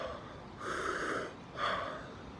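Intense Wim Hof method breathing: two forceful breath cycles, each a loud, rushing, wheezy draw of air close to the mic, separated by a brief pause.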